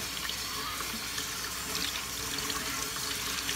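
Cold tap water runs steadily into a sink while seeds are washed, a constant splashing hiss, close and unbroken throughout.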